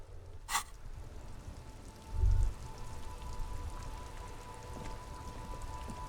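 Rain patters steadily in the video game Disco Elysium, a dense, even drizzle of drops with a sharp click early on and a brief low thump partway through.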